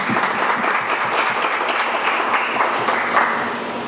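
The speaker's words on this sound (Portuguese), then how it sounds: "Uma salva de palmas, gente." A crowd at a São João festival concert honoring a deputy gives loud, sustained applause. The clapping is dense and continuous and fades slightly toward the end, with no speech over it.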